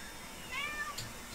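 A house cat meows a few short times, wanting to be let out, in a quiet room, its cries close and fairly clear against faint background noise.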